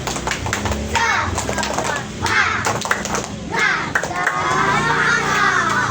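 A group of children clap in rhythm and shout a chant together, loud and close, in lively repeated bursts.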